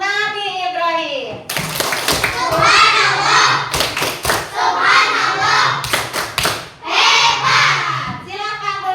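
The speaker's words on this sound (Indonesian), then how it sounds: "Beri tepuk hebat untuk kelompok Nabi Ibrahim." A class of students does a rhythmic group clap for a presentation team, with sharp clusters of hand claps in patterned bursts under children's voices chanting together.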